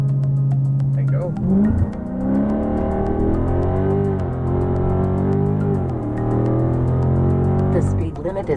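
A Dodge Charger Scat Pack 6.4L V8 revs loudly and close under launch control, surging and holding engine pitch as it accelerates hard, with a voice talking over it.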